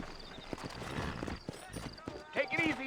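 Horses in the video game Red Dead Redemption, set in New Orleans, clip-clop with irregular hoof strikes alongside a snort or whinny, while someone talks over them.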